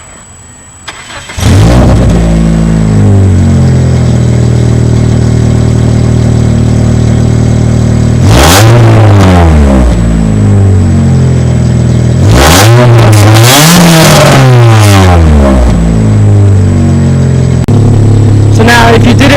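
Car with a straight-pipe exhaust starts up and idles loudly, then revs hard in a few bursts that climb and drop back, close and raw with no talking.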